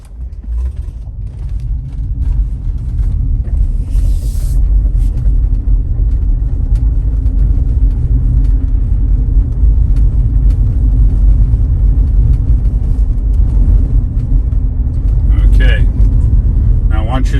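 Steady low rumble of a Tesla Model Y driving along with a flat tire, constant and close throughout, with faint occasional clicks and no talking.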